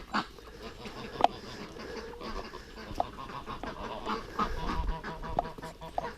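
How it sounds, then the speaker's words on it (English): Ducks among backyard poultry give repeated honking, quacking calls, fairly close and scattered, with rustling and movement between them. "Hey, stupid duck. What are you doing?"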